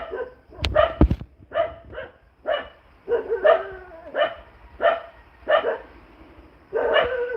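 Several dogs bark at a man walking down a road in a rural backwoods setting, giving about ten loud, close barks in an irregular run with a few yips, and no talk.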